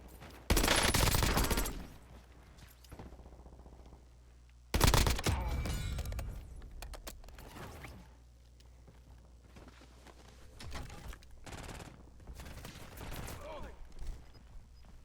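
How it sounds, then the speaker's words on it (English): Two loud bursts of rapid gunfire ring out close by in a shooter video game, each trailing off, followed by scattered fainter shots and movement noises. "They're shooting."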